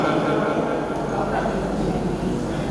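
A voice imitates a train rumbling across the iron Godavari bridge at Rajahmundry, a steady, dense, continuous roar mimicking wheels passing each pillar, sustained loudly throughout without pauses.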